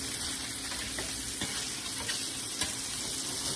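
Salmon pan-grills with a steady, close sizzle. A continuous crackling hiss carries faint pops and spatters throughout, with no one talking over it.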